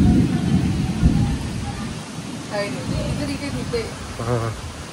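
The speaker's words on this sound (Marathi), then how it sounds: "आणि पाऊस बघा, आणि जोरदार असा पाऊस आलेला आहे." Heavy rain pours down on a village home with a deep rumble of thunder underneath, while people talk over the downpour.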